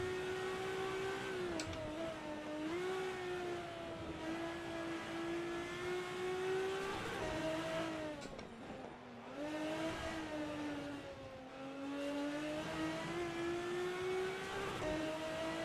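Ferrari 365 GTB engine in the Assetto Corsa racing game with the GT Legends mod at Brands Hatch, a steady loud harmonic drone that rises and falls with shifts and throttle lifts, running continuously without talk.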